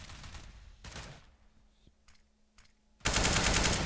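Counter-Strike gunfire on the Cache map comes in short rattling bursts with quieter gaps between them, then a loud sustained volley at the end.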